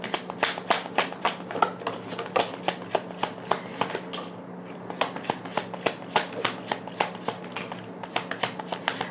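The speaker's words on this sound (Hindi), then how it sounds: "बहुत कार्ड्स निकल के आए हैं" Tarot cards shuffled steadily until some fall out, a rapid run of crisp papery slaps repeating in a fast rhythm, close and fairly loud with a brief pause midway, no talking.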